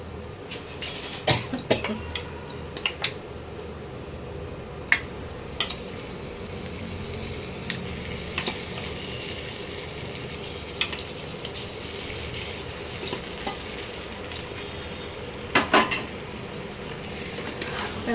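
Meat going into a hot pan with spices for Bengali kosha mangsho, a steady sizzle and fry with scattered clinks and scrapes of a stirring utensil against the pan, fairly close and with no talk.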